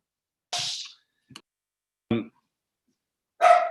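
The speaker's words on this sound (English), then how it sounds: "when something's at the door, the dog barks" A dog barking at the door at home: a few separate barks and yips spaced out irregularly, moderately close, with silence between them.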